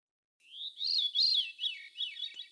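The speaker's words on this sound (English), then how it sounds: "So here's the song of a veery, which is a very common songbird." A veery sings a single phrase of its song, a clear, fluty downward-spiraling series of rising and falling notes, close and alone against silence.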